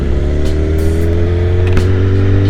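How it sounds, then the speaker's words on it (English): A 600cc motorcycle engine holds a steady, loud, droning rev as the throttle is twisted, its tone staying fairly even throughout with no talking. "Then twist the throttle,"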